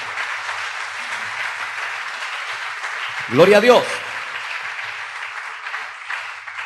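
A church congregation claps steadily in a continuous wash of applause while a voice briefly calls out over it partway through.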